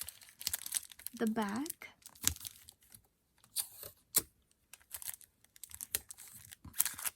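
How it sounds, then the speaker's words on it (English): Adhesive tape being torn and pressed onto the back of a handmade print card, giving close, irregular crinkly rips and crackles in short bursts, with someone talking over parts of it. "I'm just gonna tape all the back"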